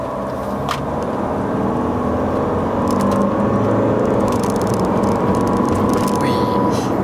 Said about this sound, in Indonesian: Kita coba tes ya akselerasinya.